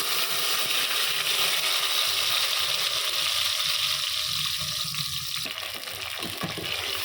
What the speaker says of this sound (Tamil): இப்போ இதிலே வந்து நான் மசாலா போட்டுக்கிறேன்.